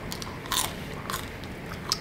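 Close, quiet chewing on sardines, with a few soft, crunchy bites spaced over a couple of seconds against a faint background.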